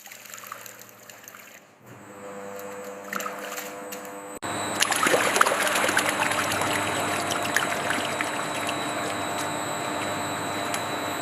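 Starch milk pours through sieves in a cassava factory, a steady trickling, splashing flow that starts quiet and swells into a louder continuous wash of water and machinery.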